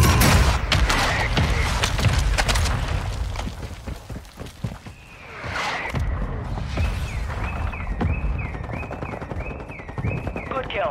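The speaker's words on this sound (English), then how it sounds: "Mortar strike inbound now." Mortar strike explosions in Call of Duty: Warzone, a burst of rapid booming blasts and gunfire up front, then a lull and a sharp whistle followed by repeated electronic beeps, with game voice lines mixed in.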